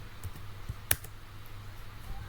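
Keys tapped on a computer keyboard while entering switch port commands during network configuration, a few soft clicks and one sharper stroke over a low steady hum, no voices.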